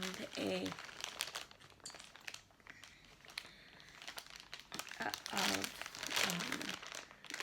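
A crinkly package holding hand-spun art yarn is unwrapped up close, giving bursts of crackling plastic crumpling and rustling, with a person talking softly between and over the crinkles.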